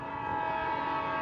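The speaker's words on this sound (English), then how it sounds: "Does not sound like a normal Hamilton Northwestern horn, but that's him." A Hamilton Northwestern locomotive sounds an unusual train horn, a loud sustained multi-tone chord held steadily throughout with no pauses or voices.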